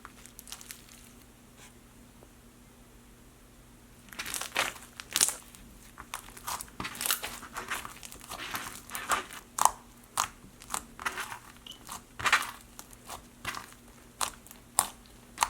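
Foam slime being squished by hand, giving a close, steady run of crisp clicky crunches and crackles that starts after a quiet opening and keeps going with no talking.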